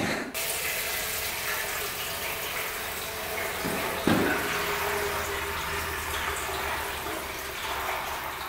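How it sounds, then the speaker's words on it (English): Gasoline pours from the loosely fitted fuel lines of an old motorcycle that sat in boxes for over twenty years, a steady trickling, splashing liquid flow that runs continuously, fairly close, with a brief louder splash partway through. "Alright, let's see if gas pours out. Oh yeah, we're getting some good gas flow."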